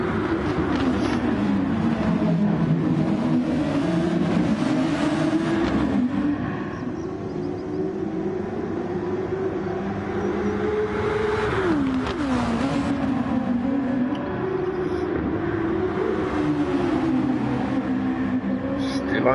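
Formula-style race car engines in the VRC Super Formula racing game whine continuously at high revs, rising and falling with gear changes as two leading cars battle closely, under steady commentary.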